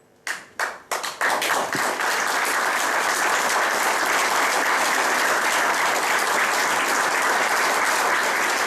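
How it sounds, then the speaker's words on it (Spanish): Audience at a book presentation breaks into applause: a few separate claps at first, then a dense, steady ovation that fills the room and goes on for several seconds with no talk over it. "me inhiben mucho los aplausos"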